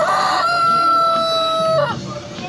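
Turkeys at a local market in El Salvador gobble and call loudly and close by in a long, sustained outburst, with market noise behind.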